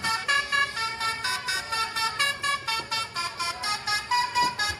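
A toy telolet bus, yellow, plays its horn melody: a bright, close series of rhythmic musical toots in quick repeating pulses, heard alone.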